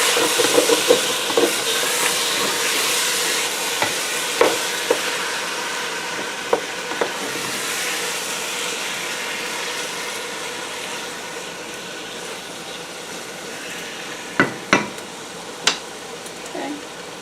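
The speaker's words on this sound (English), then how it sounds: "we're going to give it a quick stir. You're going to scrape the bottom" Browned beef for stew is stirred in a pot, a steady loud sizzling hiss running throughout with occasional sharp scrapes and clinks of a utensil against the pot.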